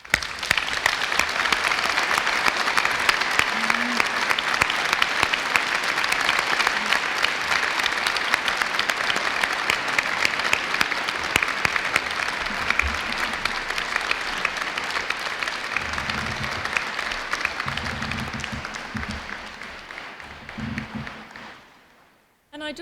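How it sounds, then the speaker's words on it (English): Sustained applause from the audience at a degree ceremony in Ely, a dense even roar of clapping that holds for a long stretch, then thins and fades out near the end, with brief voices murmuring under it. "let's give them a huge round of applause"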